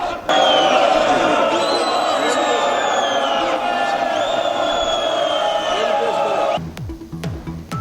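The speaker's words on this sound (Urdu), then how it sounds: "بجٹ تقریر کے دوران اپوزیشن شور مچاتی رہی۔" Opposition members in a parliamentary budget session shout slogans together, a loud sustained crowd roar with overlapping raised voices and whoops filling the room, easing off into scattered noise near the end.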